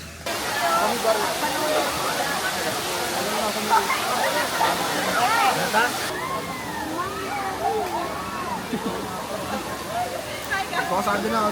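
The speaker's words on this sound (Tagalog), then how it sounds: "Dito na tayo sa Bolinao Falls." Steady rushing and splashing water from Bolinao Falls fills the background, a continuous hiss under voices talking close by.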